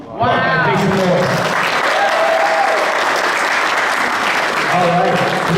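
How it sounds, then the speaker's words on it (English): Loud, sustained applause from a crowd at a comic convention panel, with cheers and a voice calling out over the clapping. "Holy applause, it's Burt"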